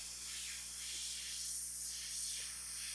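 A steady, harsh hiss of an airbrush spraying paint runs throughout at an even level, rising and falling slightly, with no voices.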